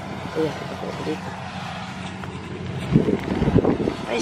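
Steady wind rushes and buffets the microphone outdoors while people talk over it, their voices louder toward the end.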